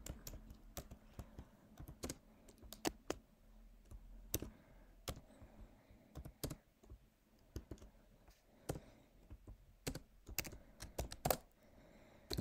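Computer keyboard typing during C programming produces irregular, crisp key clicks in scattered bursts and pauses, close-miked and fairly quiet.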